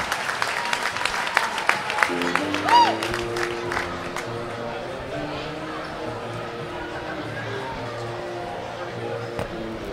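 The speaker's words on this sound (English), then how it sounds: "Listen to this crowd go crazy." At the buzzer of a girls' high school tournament basketball game between Clinton-Massie and Wilmington, the crowd erupts in cheers and clapping that peak early, then ease into a lower, steady murmur of voices and scattered whoops.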